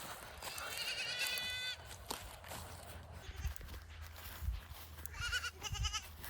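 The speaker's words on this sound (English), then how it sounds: "there's a baby goat that has escaped" An escaped baby goat bleats for its mother outdoors, a long quavering cry at the start and two shorter calls near the end, with footsteps and rustling in between.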